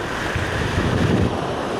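Ocean waves roll onto a wild shore in a loud, continuous wash of surf, heavily mixed with roaring wind buffeting the microphone.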